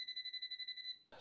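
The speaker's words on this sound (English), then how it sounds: "here's what it sounds like when it detects voltage. It has a 2-level audible alarm" An Ideal 61-627 voltage tester detecting voltage gives a close, thin electronic beep, a steady pulsing tone of rapid repeated chirps that runs for about a second, then stops abruptly with a brief rustle.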